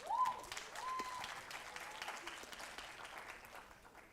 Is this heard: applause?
yes